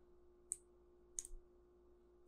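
A computer mouse gives faint, isolated clicks, three sharp separate taps spaced irregularly over a quiet room hum, with no talking.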